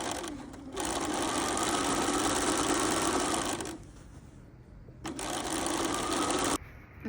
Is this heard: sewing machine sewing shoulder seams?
yes